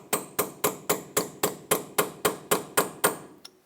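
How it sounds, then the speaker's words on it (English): A hammer strikes a chisel on the axle nut of a 2008-2012 Honda Accord, eleven sharp metallic blows in a steady even rhythm, close and loud, ending with one lighter tap. "We're going to use a punch or a chisel and a hammer and open it up a little bit."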